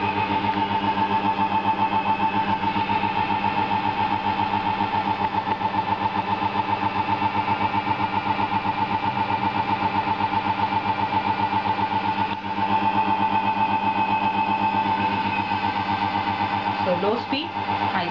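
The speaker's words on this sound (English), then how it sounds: "the 1 HP DC motor driven by IGBT driver circuit" A 1 HP DC motor runs steadily under IGBT chopper speed control, giving a constant loud electric whine and hum with a faint high tone, near and unbroken, with a small shift near the end.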